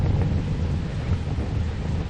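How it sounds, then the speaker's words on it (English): Strong wind on a hilltop buffets the microphone in a continuous low roar, loud and close, with no voices. "It's a little windy at the top"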